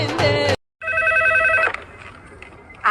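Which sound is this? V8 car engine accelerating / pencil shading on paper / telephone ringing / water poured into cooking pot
telephone ringing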